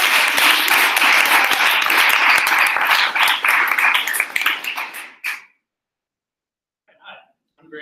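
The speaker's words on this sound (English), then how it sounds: "Let's give a warm applause." Warm audience applause for a presenter at a coding capstone presentation event, dense clapping that fades out after about five seconds, followed by silence and a brief murmur of voice near the end.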